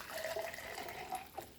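Water poured into a mixer jar holding crab xacuti masala, a short continuous gurgling pour with a few splashy bubbles, fairly close, no talking.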